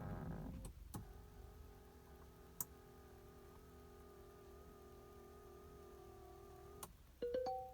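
A Mahindra XUV700 power side mirror motors steadily into a stored driver memory position, a faint even whir lasting several seconds, with soft clicks at the start and end and a brief chime once it finishes.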